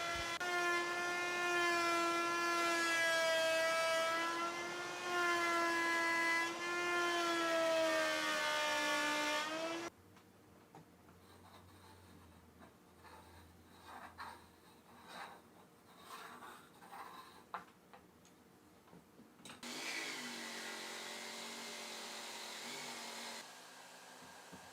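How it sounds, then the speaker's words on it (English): A router in a woodworking shop cuts a circle on a simple setup for a small shop vac cyclone dust collector. A loud motor whine runs for about ten seconds, then drops to quieter, uneven rasping before the whine returns. "I'm going to drop that onto the router and route the circle using this simple setup"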